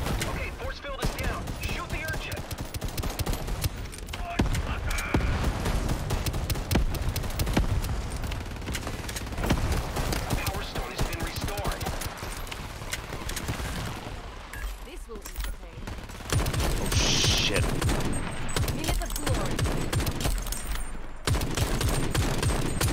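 Rapid gunfire in the Shatterline first-person shooter, bursts of automatic shots running almost continuously and loud, with mechanical clatter and a voice talking over the action.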